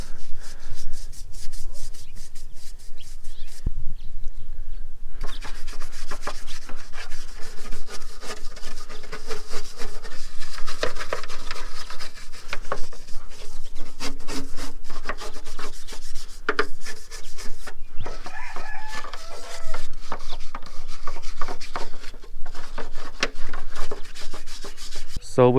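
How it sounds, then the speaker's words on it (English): A brush scrubs heavily greased spots in the engine bay of a Toyota AE86 Trueno, a loud, continuous scraping rub that runs almost without a break, with one short pause near the start. "with like heavy greased up spots like this, you really have to use a brush"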